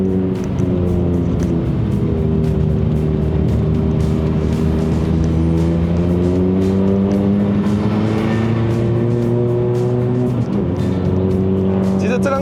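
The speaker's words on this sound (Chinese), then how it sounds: "exhaust 很大声" A Suzuki Swift Sport ZC33S with a six-speed manual and loud aftermarket exhaust drives uphill on the Genting road in Malaysia, its engine droning steadily and close, rising and falling through the revs the whole time.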